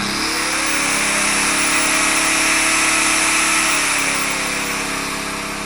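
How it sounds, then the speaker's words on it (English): An angle grinder running on a Champion 2500-watt inverter generator, with a loud, steady high whine and engine hum that holds throughout with a slight pitch shift, no talk. "Here goes the grinder, ready?"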